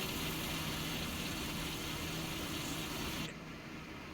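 Tractor engine running at a steady idle beside a combine harvester, a constant low rumble that drops away abruptly near the end.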